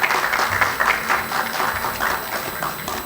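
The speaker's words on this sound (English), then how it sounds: "Can we have a big round of applause," Audience applause at a technology exhibition in Ahmedabad, a loud, dense and sustained clapping from a sizeable crowd, close and continuous across the whole moment with no speech on top.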